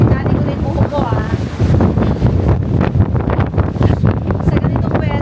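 Strong gusting wind buffets the microphone with loud, rumbling roars that rise and fall throughout, outdoors in Taiwan, with someone speaking faintly underneath.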